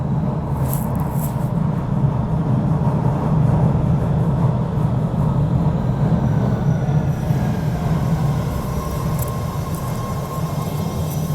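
A train rumbles by up close, loud and continuous, with wheels clattering and a high metallic squeal cutting in now and then.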